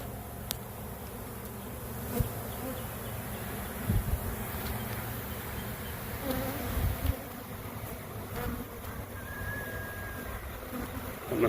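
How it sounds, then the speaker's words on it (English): A dense honeybee swarm being shaken from a swarm drones steadily and loudly throughout, a continuous close buzz with a few sharp knocks and rustles of handling and no talk. "that's a lot of bees"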